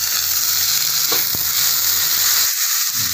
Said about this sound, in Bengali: আদাটা ভাজা হয়ে গেছে, এবার দিয়ে দেবো ছোটো রাখা টমেটো